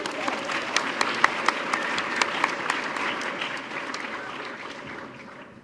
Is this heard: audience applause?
yes